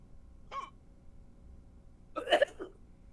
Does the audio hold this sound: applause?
no